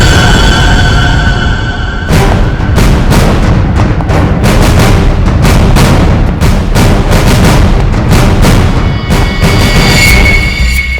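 At a police firing range, loud gunshots ring out in a rapid, repeated volley of sharp booming bangs that begins after a short lead-in and keeps going to the end.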